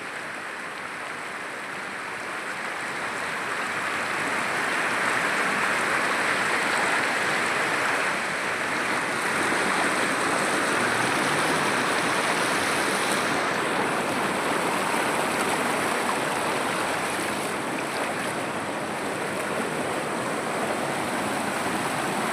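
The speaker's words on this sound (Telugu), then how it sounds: "వంక అయితే ఇది." A village stream swollen by heavy rains rushes with white, frothy water, giving a loud, steady broadband roar throughout with no voices.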